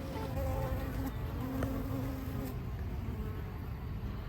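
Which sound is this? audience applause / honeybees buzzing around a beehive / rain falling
honeybees buzzing around a beehive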